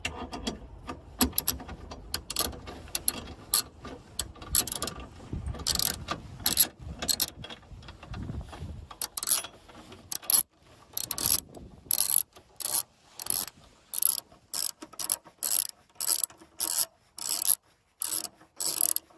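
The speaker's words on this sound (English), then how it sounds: "And now with the 13mm on, you just start to unscrew." A 13mm ratchet loosens bolts inside a Volvo XC90 in rapid metallic clicking runs, first dense and scraping, then broken into crisp regular bursts of clicks with short pauses between strokes, close and alone.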